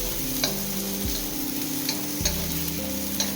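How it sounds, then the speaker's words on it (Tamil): Onion, garlic and bitter gourd frying in a pan, a steady close sizzle with occasional light stirring taps and a low hum underneath, with no talk. "வெங்காயம், பூண்டு, பாகற்காய் மூணுமே நல்ல முருகலாக வரட்டும்."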